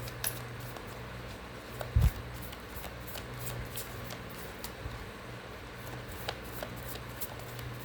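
Moonology oracle cards being shuffled by hand, a steady soft riffling patter with light flicks and one brief louder knock near the middle, close and quiet with no voices.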